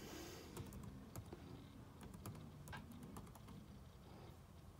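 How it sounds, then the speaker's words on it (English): Computer keyboard being typed on to enter a search, a quick run of faint, close key clicks over a low background hum. "we'll type in multi"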